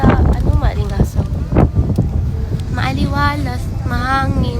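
Wind buffets the microphone in loud gusts while people talk over it.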